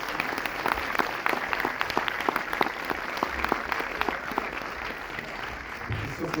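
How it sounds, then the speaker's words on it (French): An audience at a Paris film premiere applauds steadily and loudly, a dense patter of many hands clapping throughout without pause. "Je vais l'applaudir bien fort."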